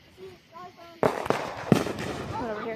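Fourth of July fireworks going off outdoors, a few sharp bangs and crackling bursts after a quiet start, with people talking nearby throughout.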